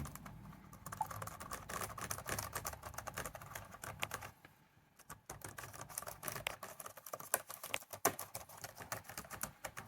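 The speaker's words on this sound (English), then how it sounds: "But I wanted to test the keyboard, so let's have a quick test." Fast, steady typing on a Sony Vaio VGN-BX393 laptop keyboard, the keys clattering close up with a brief pause partway through before the tapping picks up again.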